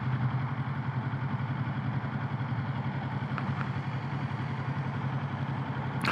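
A Kawasaki Z650 motorcycle engine idles nearby with an even, low, throbbing rumble and a light mechanical clatter that holds steady throughout, with no speech.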